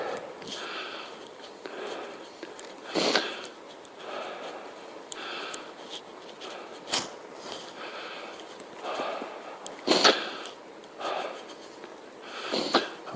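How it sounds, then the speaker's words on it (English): Repeated sniffles and snorts from a rider out cycling on a slow path between Bath and Dundas through two tunnels, close and fairly faint, recurring every second or two over steady wind noise. "I imagine this sniffling is going to get a little bit annoying"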